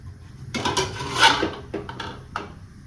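A vessel of colostrum milk set down inside a pressure cooker: a few clinking metal knocks and scrapes, close and fairly quiet, with no talking.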